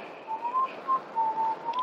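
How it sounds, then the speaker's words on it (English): A person whistles a simple tune of short thin notes with brief gaps, fairly faint, over a low hum of background noise in an old Western film scene. "shut up that whistling"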